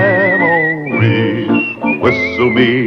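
A whistled melody from a western theme song, bright and tonal with sliding notes, carrying a tune over musical accompaniment for a few seconds.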